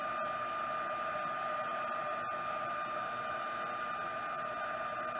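An embossing heat tool blows hot air in a steady, close, even whirring hum with a faint whine, unbroken apart from a couple of tiny clicks.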